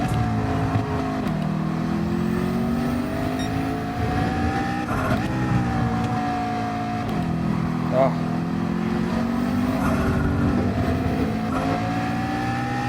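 Race car engines in the Deep Forest Raceway racing video game, including a McLaren and Viper, drone steadily throughout with shifting revving pitch, loud and continuous, while a voice talks over them.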